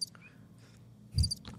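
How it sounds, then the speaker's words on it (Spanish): Crickets chirp in short bright bursts over a low background hum, close and fairly loud, with a stronger cluster of chirps near the end. "¿Estás viendo los grillos?"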